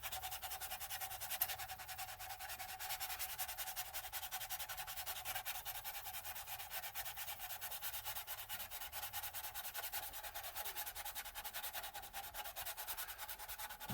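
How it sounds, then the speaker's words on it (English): A 1/72 scale plastic model fuselage of an EC-135C being sanded by hand with fine-grit paper: close, quiet, steady back-and-forth rubbing that runs without a break, with no talking. "I'm trying to turn my fuselage back and forth a little bit as I sand to try and keep that little bit of a roundness"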